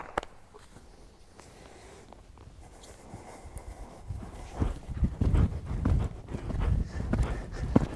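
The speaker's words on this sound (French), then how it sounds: "le cheval maintient son galop" Rhythmic hoofbeats of an 8-year-old Selle Français stallion cantering, faint at first, then growing louder and closer as the steady three-beat thuds continue.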